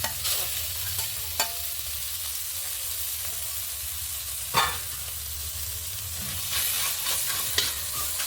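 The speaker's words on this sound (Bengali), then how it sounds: "পেঁয়াজটা নুন দিয়ে ভেজে নেব। এখানে দিয়ে দিব মাছের তেলটা।" Onions fry with salt in fish oil in a pan, a continuous close sizzle and hiss with a few sharp stirring knocks and scrapes, with no voices.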